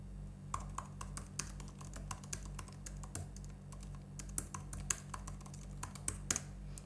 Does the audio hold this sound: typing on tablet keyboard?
yes